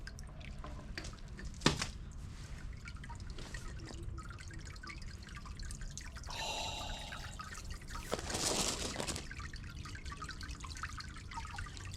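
A plugged-in garden fountain runs with soft, quiet trickling and dripping water, a steady low splash with a couple of brief louder gushes partway through.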